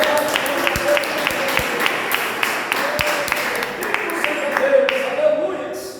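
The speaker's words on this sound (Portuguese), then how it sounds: "dá uma salva de palmas" A church congregation applauds continuously in a large room, a dense, steady wash of clapping with scattered voices mixed in.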